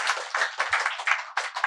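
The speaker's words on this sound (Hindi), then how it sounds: "एक बार जोरदार तालियां" An audience at a student talent event at a welfare society in Vijayapura, Karnataka, breaks into applause. Dense, brisk clapping rises and dips in quick waves over the short stretch.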